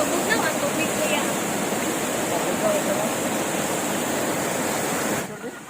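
Water flowing steadily over rocks at a forest camp resort in Valencia, Negros Oriental, a constant broadband rush heard up close that cuts off near the end.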